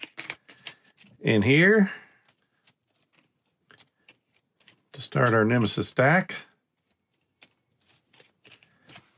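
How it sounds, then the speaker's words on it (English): Aeon's End board game cards being shuffled, with soft riffling and tapping between two spells of someone talking nearby. "We'll shuffle those"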